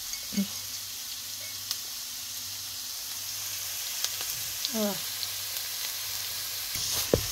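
Onions and garlic sizzling with salt in a hot pan, a steady close hiss with occasional stirring scrapes and brief vocal sounds over it.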